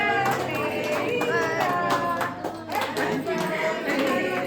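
Hands clap at a child's birthday cake cutting at home, quick scattered claps mixed with lively voices and chatter from family members gathered close by.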